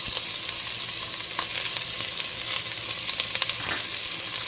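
Carrots and onions sizzle steadily in hot oil in a soup pot, a loud, continuous crackling hiss with a few light clinks of stirring, for a vegan Tuscan white bean soup.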